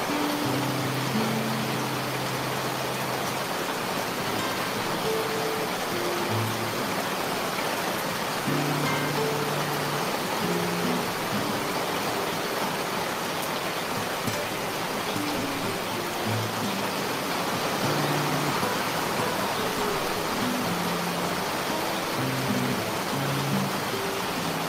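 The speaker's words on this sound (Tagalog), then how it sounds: "Lakas ng ulan." Heavy rain pours down in a dense, unbroken roar that holds steady and loud throughout, with faint low murmurs in the background.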